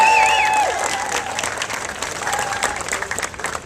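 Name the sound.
round of applause from audience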